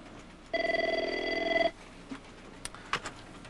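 An old-style telephone bell rings in one short, loud burst of rapid trilling, followed by faint clicks and handling noises.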